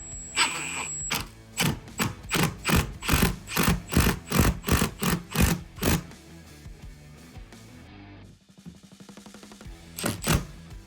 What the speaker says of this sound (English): was once this 3-inch screw got to those 2x4s, that's when the power of this drill really helps.